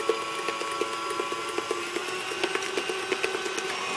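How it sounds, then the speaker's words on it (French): Electric mixer whisking egg whites at low speed for a lemon meringue tart, a steady high motor whir with a quick regular ticking of the beaters against the bowl, close and without speech. "au début, on tourne assez doucement de façon à bien foisonner le blanc, bien l'aérer"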